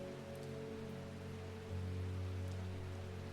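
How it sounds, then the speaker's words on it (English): Steady rain falls in the video game Strange Horticulture, a constant soft hiss of droplets with a low hum beneath, unbroken and without speech. "Does it ever stop raining in Undermere?"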